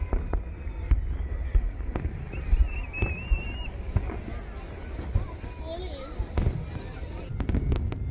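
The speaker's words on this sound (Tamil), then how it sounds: "ஃபுல்லாக வானம் ஃபுல்லாகவே கலர் கலராக பட்டாசு வெடிச்சு பயங்கர இதுவாக இருந்தது." Fireworks bursting over a crowded Kuwait National and Liberation Day celebration, with repeated sharp booms and pops scattered across the sky, some whistling rises, over steady crowd murmur and distant talk.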